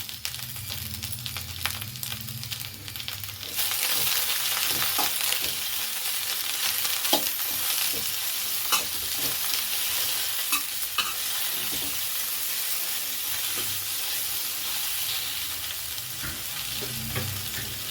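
Sliced okra frying in a pan with turmeric and salt for an Andhra-style pulusu, a loud steady sizzle that jumps up a few seconds in and continues with crackles and spatula scrapes from stirring throughout.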